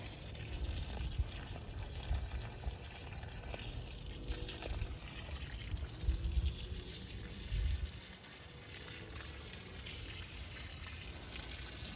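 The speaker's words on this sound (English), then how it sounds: "I'm just trying to give it water because this thing loves water" Water pouring steadily onto a dwarf Cavendish banana plant in a garden early in the morning, a soft continuous gush and trickle that fades out near the end.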